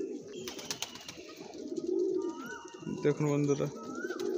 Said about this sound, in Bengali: সমস্ত সবুজ পায়রা শখ করাবো, পুরাতন লাইনের পায়রা সব আপনারা দেখতে থাকুন।